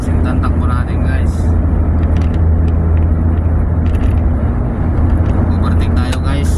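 Car on a road test drive with an automatic transmission showing a P0730 incorrect-ratio fault, overtaking a truck: loud, steady engine and road roar inside the cabin, with a voice talking over it.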